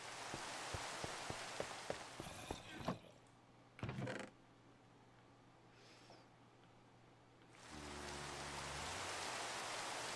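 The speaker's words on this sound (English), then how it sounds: "It's just raining." Rain falls in the Minecraft video game as a steady hiss that thins out partway through and then swells back, with a few dull thumps and a low hum in the background.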